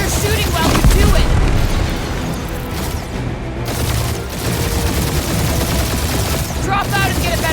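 Gunfire in Marvel's Guardians of the Galaxy combat: dense bursts of shots and booms pile up continuously and loudly, layered with game music and effects, while characters' voices talk over the fighting.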